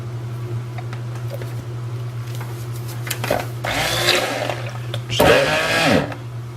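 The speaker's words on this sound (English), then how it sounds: "now we're going to use this electric mixer, wand mixer" An electric wand mixer churns a hot soap batch with melting wax, giving two loud, rough bursts of blending over a steady low motor hum and faint clinks.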